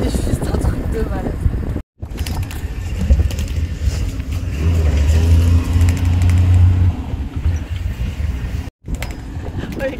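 A car engine rumbles loud and close while driving over rough off-road terrain, a continuous low drone with brief cut-outs to silence.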